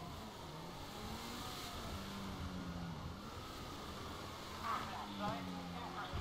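A police car's engine revs hard at full throttle while being driven through city streets in GTA 5, a steady, loud, continuous drone with shifting pitch that runs the whole time under a faint background voice.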